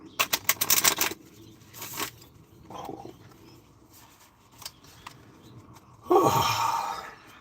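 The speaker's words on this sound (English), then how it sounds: "I'm just gonna shuffle some cards." Tarot cards being shuffled during a collective reading, heard as quick dry riffling bursts in the first second, a few scattered soft flicks, then a longer dense riffle near the end, close and fairly loud.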